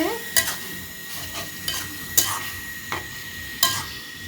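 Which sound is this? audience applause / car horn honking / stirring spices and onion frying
stirring spices and onion frying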